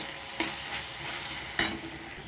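Tadka masala with a splash of water frying in a pan, a steady soft sizzle broken by two brief louder stirring scrapes, close up with no voices.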